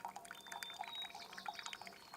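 Coffee drips through a pour-over filter on a backpacking cook kit outdoors, a quick, faint run of small liquid drops and trickles falling in an irregular patter, close by.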